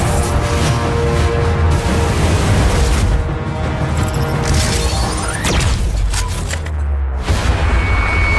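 Wartime battle sounds from the Mecha Arashi video game intro, with loud crashing impacts, booms and mechanical clanks arriving in dense, uneven bursts throughout.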